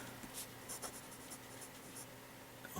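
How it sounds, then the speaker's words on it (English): A Jinhao 911 fountain pen with a fine hooded nib writing on paper: soft, continuous close scratching of the nib, faint and steady with small strokes and pauses. "This pen really surprised me with how smoothly it writes."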